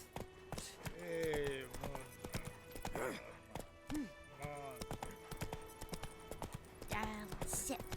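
Roach, Geralt's horse in the video game The Witcher 3, gallops in quick rhythmic hoof clip-clops, with whinnies and vocal grunts rising over the hoofbeats at a few points.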